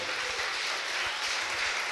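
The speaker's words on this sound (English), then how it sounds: "big round of applause for your contestant for the first match" A crowd applauds the contestants of the first match at a fight event, a short burst of steady, even clapping heard alone.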